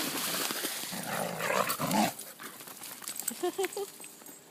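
A dog growls and grumbles playfully up close while a person talks over it.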